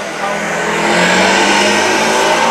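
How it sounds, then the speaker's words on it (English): A motorcycle engine passes by as a steady, fairly loud drone that swells slightly over a couple of seconds, with no speech over it. "Actually, it's a motorcycle."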